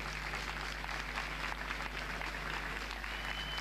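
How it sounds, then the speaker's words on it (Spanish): Applause from a small audience at a talk on PC case modding design, a faint, steady clatter of hands clapping with a low hum underneath. "un aplauso a nuestro oponente"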